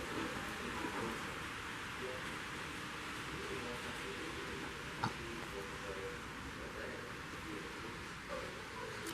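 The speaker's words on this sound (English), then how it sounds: "Push the button and we got a thunderstorm that blows in." A thunderstorm sound effect plays at the Ghost Town scene of a large model railroad display, a steady wash of rain-like hiss with a soft rumble and one brief crack midway.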